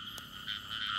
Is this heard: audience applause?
no